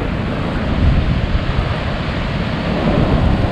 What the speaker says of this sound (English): Well, that's a big old wave over there.